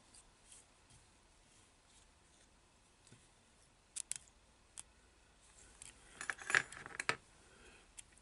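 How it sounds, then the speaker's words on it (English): Scissors snip excess olive marabou while tying a Woolly Bugger fly, a few faint, quick close cuts that cluster toward the end against near silence. "Trim off the excess."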